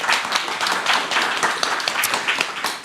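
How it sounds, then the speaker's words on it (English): Audience applause greeting a panel speaker as she comes on stage, a dense, steady wash of many hands clapping at close range for about three seconds without any voices. "So please give her a round of applause."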